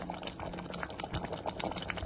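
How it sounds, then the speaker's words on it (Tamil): A pot of white pumpkin sambar bubbles quietly, soft popping and gurgling of thick liquid at a low simmer, close and faint, with no one speaking. "அஞ்சு நிமிஷம் நல்லா கொதிச்சிருக்கு"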